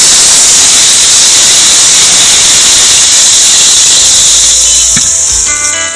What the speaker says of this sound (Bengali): খানিকটা জল ঢেলে দেবো।